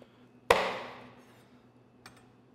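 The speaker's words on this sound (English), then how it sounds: "Maybe I need my chef knife here." A chef knife strikes once through the spines of a fresh fish: a single sharp chop with a bright ringing decay, then a faint tap about a second and a half later, close and alone in a quiet room.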